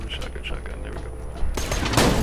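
A shotgun blasts in Borderlands 2, a sudden loud burst of gunfire cutting in partway through and sustaining over busy game sounds, with a voice talking beforehand.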